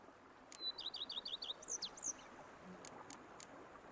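Birdsong in The Witcher 3: Blood and Wine, a quick run of six or so bright, rising chirps followed by a couple of longer whistled notes, faint and clear over a soft, quiet ambient background.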